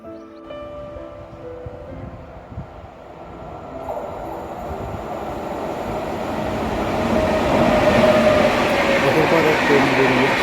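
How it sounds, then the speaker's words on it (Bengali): A train moves through a quiet station and grows steadily louder over about ten seconds, with rolling rumble and a faint metallic squeal as it draws near, and voices murmur in the background. "ট্রেন বেরিয়ে যাচ্ছিল, আমাদের ট্রেনের জন্য আমরা বসছিলাম"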